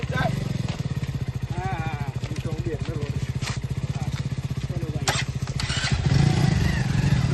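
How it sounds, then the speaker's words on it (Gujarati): A motorcycle engine chugs in a fast, steady throb close by, revving slightly toward the end, while people talk over it. "આપણી બાઈક"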